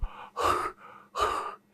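A person imitates rough, rapid, excess-type panting with two harsh, forceful breaths, each followed by a quieter softer one. The breaths are close and breathy, and no words are spoken.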